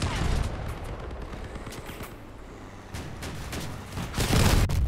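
Machine gun fire in the vehicle combat game Crossout, dense bursts of gunfire and booms that swell loud at the start and again near the end.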